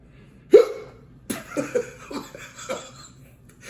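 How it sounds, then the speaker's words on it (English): A man hiccups after drinking carbonated beer, one sharp close hiccup followed by a few soft laughs and breaths. "That could be the first hiccup I've had."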